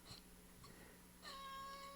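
A pet cat meows indoors, a short faint cry at the start followed by a clearer, longer meow toward the end, close by in a quiet room with a steady background hum.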